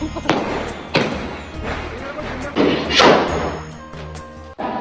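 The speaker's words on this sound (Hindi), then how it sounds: "हो गए सारे पटाखे" Firecrackers bursting at a home Diwali celebration, a series of sharp loud bangs with crackling tails repeating about once a second, close by and fairly loud.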